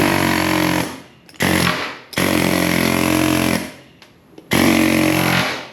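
An air chisel hammers into a Brunt work boot's rubber, three loud, close bursts of harsh rapid pneumatic chattering separated by short pauses.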